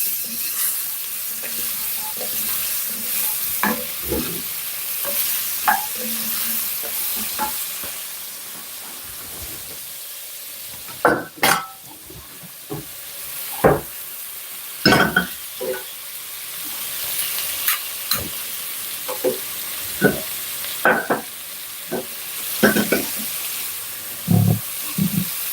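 Flour sweating in a hot pot for broccoli soup, stirred with a utensil: steady sizzle and hiss underneath, with repeated sharp scraping and clinking strokes against the pot, loud and close, no voices.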